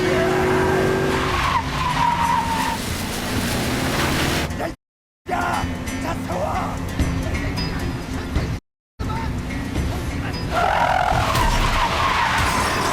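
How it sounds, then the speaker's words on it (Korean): A car skids on a wet, rain-soaked road during a film stunt, tires squealing and the engine roaring in a long continuous run broken by two brief silent cuts. "극한까지 가는 액션의 비결은 직접 빗길 카스턴트를 감행한 정우성의 투혼 덕분이었죠."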